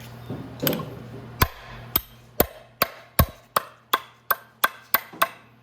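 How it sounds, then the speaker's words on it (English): A series of sharp metallic hammer blows, about a dozen evenly spaced strikes, close and loud, knocking the water pump loose on a Venom X22GT 250cc go-kart, with no talking. "I'll hit this a whack with a hammer, and I'll get that pump out of there"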